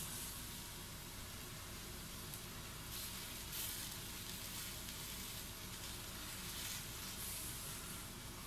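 Onions frying for a burger give a steady, dense sizzle throughout, close and continuous with no talk.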